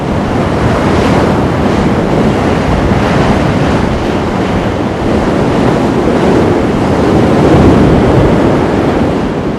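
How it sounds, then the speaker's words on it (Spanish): Atlantic Ocean waves crash against high sea cliffs in a loud, continuous roar of surf with steady wind noise, unbroken for the whole stretch and with no voices. "ni la violencia de las olas, ni la altura de los acantilados, ni el estruendo del océano"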